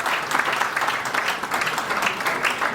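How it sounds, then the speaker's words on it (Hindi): Audience applause for a retired insurance-sector CEO at a seminar on insurance challenges and awareness, a steady, dense patter of many hands clapping throughout, fairly loud and continuous with no talk over it. "ताली तो बजाई दीजिए सर के लिए।"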